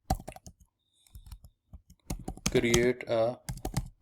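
Clicking keystrokes on a computer keyboard, typed in quick irregular bursts at close range, with someone speaking briefly over the typing.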